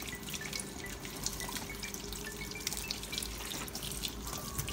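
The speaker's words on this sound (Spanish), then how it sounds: "Laven muy, muy bien sus chiles, amigos." Poblano chiles being rinsed one by one under running water, a steady close trickle with soft irregular drips throughout.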